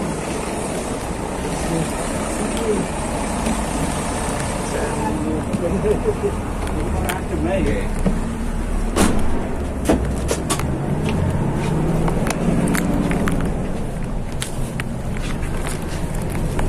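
Bus travelling on the toll road from the Kejapanan toll gate in Pasuruan Regency toward Malang: a steady interior road rumble with wind-like hiss, broken by scattered sharp clicks and knocks throughout.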